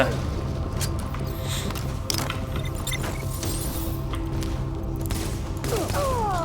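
Gunfire in the video game Tom Clancy's The Division, with scattered sharp shots and mechanical weapon clicks over a steady game soundscape, while a person talks over it.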